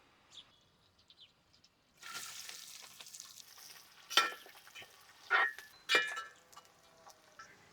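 Onions fry in oil with cardamom, bay leaf, cinnamon, cloves, kasuri methi and star anise for a restaurant-style veg biryani. After a quiet start, a soft crackling sizzle sets in, with louder bursts as the pan is stirred.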